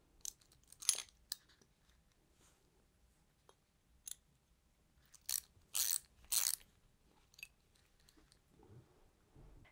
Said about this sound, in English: You can unscrew this using a 13mm ratchet or spanner and then screw it back on the other side.